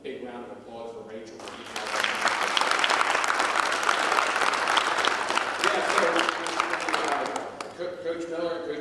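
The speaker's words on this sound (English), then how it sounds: "A big round of applause for Rachel." An audience at a varsity wrestling event bursts into loud, dense applause that swells after a voice speaks, holds for several seconds, then fades as talking resumes.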